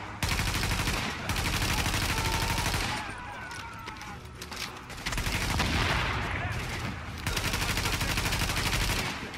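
Rapid bursts of gunfire in The Division, aimed at a gas can, crackle loud and dense in long sustained volleys broken by short pauses.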